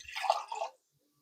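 Water is poured into a jar of sourdough starter in a short splashing gush that stops abruptly, followed by near silence.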